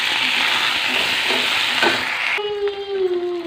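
Long potato strips frying in a pan, a steady close sizzle with faint stirring that drops off sharply partway through, leaving a quiet kitchen hum.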